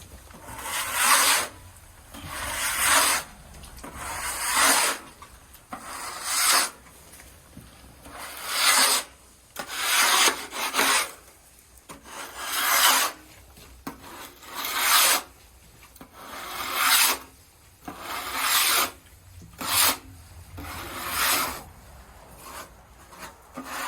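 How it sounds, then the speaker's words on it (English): A 10-inch spackle knife scrapes caked sludge off the steel sidewall of an underground oil tank in long, rasping strokes, about a dozen loud passes in a steady rhythm with brief pauses between them. "he takes the old standard 10-inch spackle knife and he'll begin to scrape the sidewall down"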